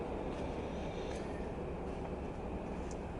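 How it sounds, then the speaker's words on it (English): A train passing nearby fills the scene with a steady, dense rumble and rush that holds at the same level throughout, with faint high squeals now and then and no voices over it. "Just giving you the cue because of the train."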